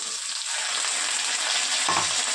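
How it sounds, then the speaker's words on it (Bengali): Beetroot fries in a pan with a continuous, dense sizzle that stays loud and even throughout, with a brief stirring scrape near the end. "তো দেখুন বন্ধুরা প্রথমে আমি বিট ভাজাটাকে করে নেব"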